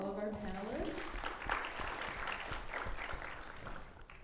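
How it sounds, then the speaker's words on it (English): Conference audience applauding panelists, a steady wash of clapping heard at a distance and fairly quiet, with a brief voice over it at the start. "let's have another big round of applause for all of our panelists"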